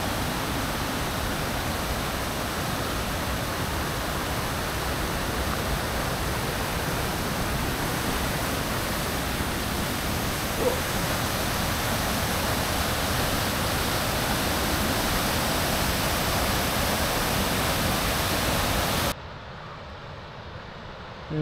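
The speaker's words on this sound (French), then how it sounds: "Une autre belle chute." A waterfall roars in the Algonquin backcountry as a loud, steady broadband rush that fills the whole stretch, then drops abruptly to a quieter hiss near the end; no voices are heard.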